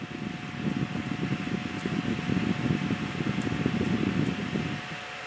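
A small electric fan whirs steadily nearby with a soft, fluttering airy hum and a faint constant tone, quiet and uninterrupted.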